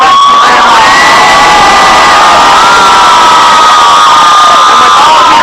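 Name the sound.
large enthusiastic crowd cheering at rally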